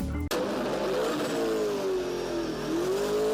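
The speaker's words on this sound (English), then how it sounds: "we were interrupted by, the sound of Rich Guido's car in our headphone" A loud racing car engine roars continuously, its pitch sweeping up and down as it revs hard, close and steady throughout.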